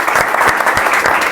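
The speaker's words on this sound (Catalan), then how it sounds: "Aplaudiment per tots ells!" Applause from a small group greeting the winners of a board-game round, steady clapping with a few louder bursts throughout, close and dense, no talk over it.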